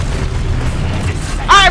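Confringo spell explosion in Hogwarts Legacy, a heavy, continuous low boom that fills the whole short moment at high volume, ending in a brief bright crackle.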